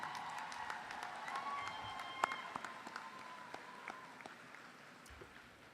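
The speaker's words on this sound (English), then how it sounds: "Class of 2019, please give all of them a round of applause for what they've done for you." Applause from graduates and guests at a university undergraduate commencement, a steady moderate wash of clapping with a few sharper claps, carrying on evenly for several seconds with faint tones and crowd noise behind it.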